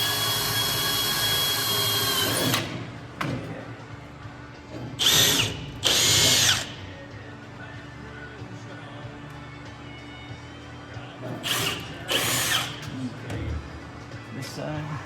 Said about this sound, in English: I didn't drill that one.